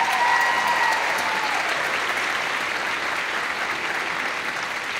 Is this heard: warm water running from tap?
no